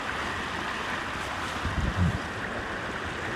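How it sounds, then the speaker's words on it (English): Water overflowing outdoors, heard as a steady broadband rush like surf or strong wind, with a brief low rumble near the middle and no talking. "that water is overflowing"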